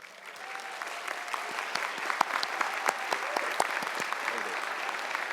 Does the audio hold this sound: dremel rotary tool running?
no